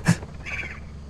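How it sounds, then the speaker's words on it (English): A single short, harsh bird squawk rings out in the co-op horror game Lethal Company, fairly close, followed by a fainter raspy tail against a low background hum. "Bird."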